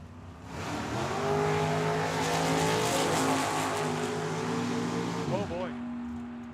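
Drag racing cars, including a 1940 Chevy and a 1966 Plymouth, roar off the line at Tucson Dragway, a loud sustained engine drone that rises and then fades, with talk over it.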